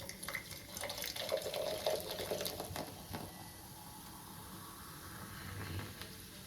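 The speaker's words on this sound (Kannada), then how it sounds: "ಸೊ ಜ್ಯೂಸ್ಗೆ ಹಾಕೋಣ." Thums Up cola is poured into juice, making a soft, continuous liquid splash and fizz that is faint and runs through the whole clip.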